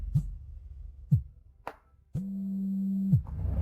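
Electronic phone ringtone during an office meeting, several short rising chirps followed by a sustained steady tone about a second long, clear and fairly close with no talking.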